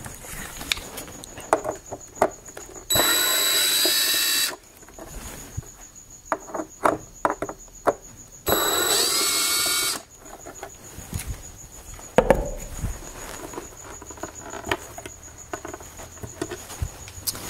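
A power drill backs screws out of a car's brake light cover, two loud sustained whirring runs of a second or more each, separated by faint clicks and handling noises, close up.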